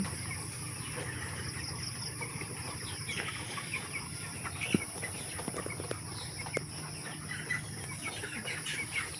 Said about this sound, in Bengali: আমার সব কয়েকটি মুরগি সুস্থ আছে এখন